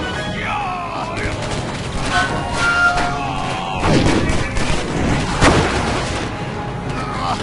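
Gunfire in the video game Stranglehold, with several heavy booming shots and thuds spread across a busy mix of game music and dialogue.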